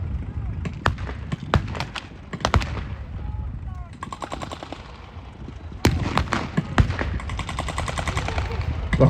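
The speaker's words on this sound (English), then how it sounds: "The Honey's laying down some fire for Browning" Machine gun fire from an M3 Stuart Honey tank during a battle re-enactment at Bovington Tigerday, rapid bursts of rattling shots with pauses, loud and outdoors, mixed with crowd and distant noise.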